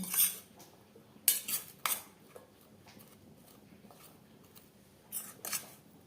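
Potatoes for crispy French fries being mixed by hand with red chili powder and spices, no water added, in a bowl; soft scattered clinks and rustles with a few sharper knocks, close and fairly quiet.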